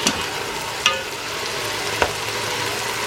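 Ground meat frying in a Ninja Foodi, a constant hissing sizzle with a few sharp clacks of the utensil against the pot as it is stirred, close and with no talk.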